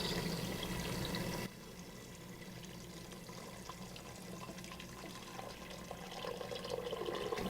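Water pours into a stovetop pressure cooker over soaked garbanzo beans, a steady close splashing stream that quiets after a moment and runs on softly.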